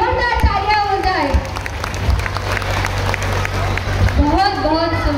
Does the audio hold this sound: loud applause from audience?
yes